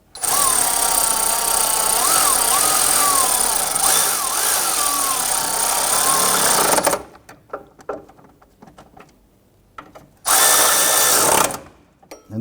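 Power tool snugging down alternator bolts on a 2011-2015 Kia Sorento 2.4L L4, a loud whining run of about seven seconds with pitch dipping under load, then quiet clinks before a second short burst.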